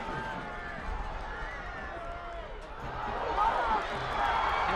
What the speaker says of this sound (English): Crowd's in it now as well.